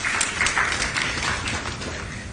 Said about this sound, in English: Shall we please give him another round of applause?